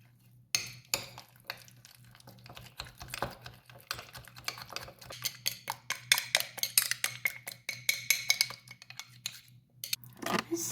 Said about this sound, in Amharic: ይህን በደንብ አዋህደዋለሁኝ።